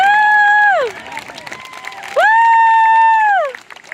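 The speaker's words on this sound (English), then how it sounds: "giving a round of applause to the young man at the center of this stage today" A festival audience cheering for a performer on an outdoor stage, with two long, loud whooping calls rising over a bed of crowd noise and scattered clapping.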